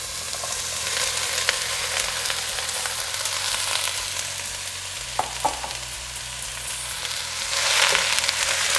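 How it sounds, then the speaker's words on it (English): Soya chunks frying in a pan for pulao, a steady moderate sizzle with light stirring and a few sharper scrapes, no talking. "Now I'm just adding the soya beans into this."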